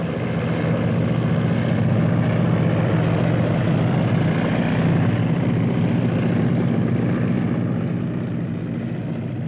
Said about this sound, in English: The planes were sent off at 10-second intervals